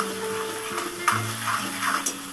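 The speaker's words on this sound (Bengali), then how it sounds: "এবার পুরো মশলাটা একটু নেড়ে চেড়ে ভেজে নেব" Spices and grated ginger stirred and fried in a pan, with a soft continuous sizzle and a few light scraping stirs, close and quiet under faint background tones.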